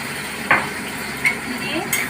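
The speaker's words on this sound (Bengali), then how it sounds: "এটাকেও আবার একটু নাড়াচাড়া করতে হবে।" Chilli paneer in soy and tomato sauce is stirred in a pan, a soft continuous sizzle with a few sharp clinks of a spoon against the pan, close and quiet.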